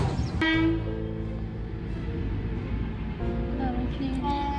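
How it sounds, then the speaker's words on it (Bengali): A passenger train passes on the line near Sihora Road on a Kolkata to Jabalpur rail journey, its heavy rumble running throughout, with horn blasts sounding near the start and again later. "অনেকক্ষণ পরে একটা প্যাসেঞ্জার ট্রেনও দেখলাম।"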